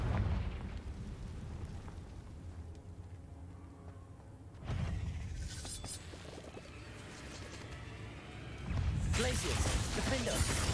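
Confringo blasting spells in Hogwarts Legacy, booming explosions that hit in a few separate bursts, one near the middle and another near the end, over continuous game sounds with people talking.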